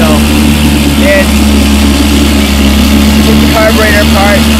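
A restored 1959 Evinrude Lightwin outboard motor running at a steady idle, a loud continuous low drone with faint squeaks above it, close to the listener.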